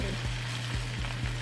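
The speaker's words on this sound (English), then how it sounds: "Oh, listen to that sizzle." A vegan grilled cheese on sourdough milk bread sizzles steadily in a hot pan after flipping, a dense crackling hiss that stays even throughout, with faint soft knocks underneath.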